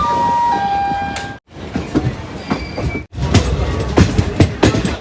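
An express train at Abhaypur railway station in Bihar rumbles and clatters close by, with high wheel squeals ringing over the rolling noise. Two sharp breaks split the sound into three loud stretches.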